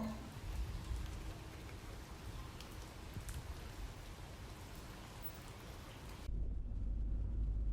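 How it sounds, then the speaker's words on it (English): Steady rain patters on a car windshield in a quiet video game scene, a dense static-like hiss that continues unbroken, with a low rumble rising at the end. "The raindrops falling into the windshield sound almost like the static noise you hear on TV."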